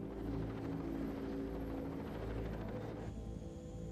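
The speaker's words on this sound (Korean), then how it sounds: "The sounds of the helicopters keep coming." Several helicopters' steady rotor thrum and engine drone fill the air continuously over a battlefield, fairly loud, with no voices.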